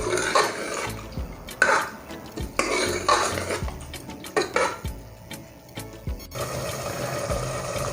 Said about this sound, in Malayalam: ഇനി ഒന്ന് സ്റ്റൗ ഓൺ ചെയ്ത് നമുക്കിതൊന്ന് മിക്സ് ചെയ്ത് 1 മിനിറ്റും കൂടി നമുക്കിതൊന്ന് വേവിച്ചെടുക്കാം